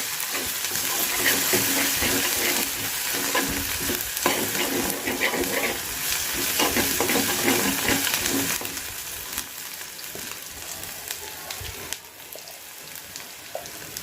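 Cabbage fries in a pan with a loud, dense sizzle and hiss, joined by occasional stirring scrapes, steady throughout and easing slightly toward the end.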